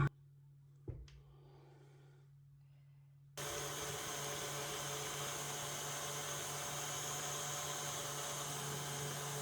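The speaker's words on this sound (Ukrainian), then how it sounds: "Я буду збивати планетарним міксером" A planetary stand mixer beats eggs with sugar for an apple pie batter, starting abruptly after a quiet moment with a small knock, then running as a loud, steady whirring drone to the end.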